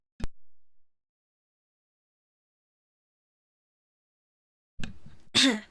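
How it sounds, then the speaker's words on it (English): A brief sharp burst near the start, then silence, ending with a quick intake of breath and a loud sneeze up close. "when I have to sneeze"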